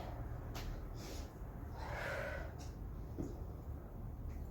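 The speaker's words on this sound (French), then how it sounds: "Souffle, inspire." Breathing during a quick gym workout: a sharp nasal intake, then a longer audible exhale, close and quiet against a faint background hum.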